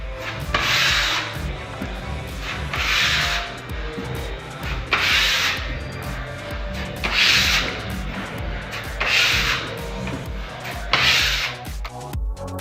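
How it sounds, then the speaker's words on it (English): A putty knife scrapes filler into nail holes in a wall, making about six rhythmic rasping strokes evenly spaced a couple of seconds apart, close and fairly loud. "Puttying holes in the wall."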